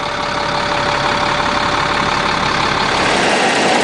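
A 1998 Safari Sahara Edition 36-foot motorhome's 300 Cat diesel engine runs at a steady idle, a loud, even rumble with a faint whine, continuous and close throughout with no talking.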